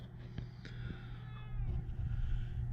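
An abandoned cat meows several times at close range, drawn-out plaintive cries over a low background rumble and faint shuffling.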